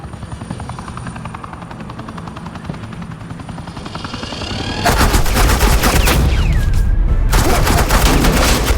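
Gunfire in Batman: The Telltale Series crackles as rapid automatic bursts over a steady helicopter rotor drone, jumping to a loud, dense fusillade halfway through with a brief whistling streak, close and sustained.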